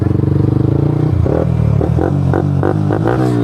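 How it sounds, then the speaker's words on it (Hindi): A Yamaha R15M motorcycle with a full-system Akrapovic exhaust drag races, its loud engine burbling at idle, then revving in a series of sharp rising bursts as gears change, close by. "सबसे बड़ा टफ राइवल अपने बजाज का, which is definitely the Yamaha R15M with full system एक्रा exhaust man"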